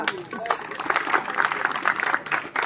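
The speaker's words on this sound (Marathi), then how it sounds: "वा वा टाळ्या वाजवा" A crowd claps steadily through a live open-air kirtan performance in Hivra, Ashti, Beed district, the applause dense and sustained at moderate distance with some voices mixed in.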